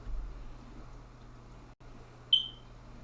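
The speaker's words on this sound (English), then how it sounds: "Diane, maybe it's my smoke detector sounding the alarm to your smoke detector" A smoke detector lets out one brief, sharp electronic chirp, heard faintly above a steady low room hum after a long quiet stretch.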